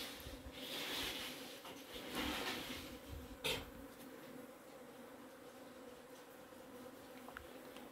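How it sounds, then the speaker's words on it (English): Busy working bees buzz faintly and steadily outdoors at a home in West Sikkim, with a soft continuous drone, a few closer passes and a brief knock partway through. "Busy working bees."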